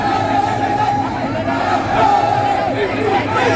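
Supporters at a Thai boat race roar as one big crowd, yelling and chanting in a dense, steady wall of voices that swells slightly midway and stays loud throughout.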